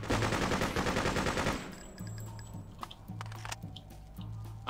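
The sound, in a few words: machine gun fire in video game Freedom Fighters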